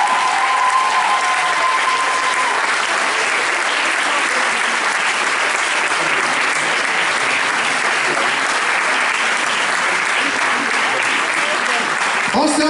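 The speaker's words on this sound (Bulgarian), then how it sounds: "Силни аплодисменти!" Strong audience applause at an award ceremony for a pop-rock song contest, a loud, sustained wash of clapping from a large crowd that holds steady throughout without letting up.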